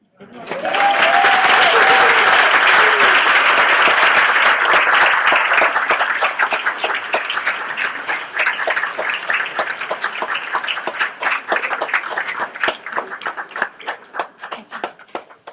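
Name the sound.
audience applause for a speaker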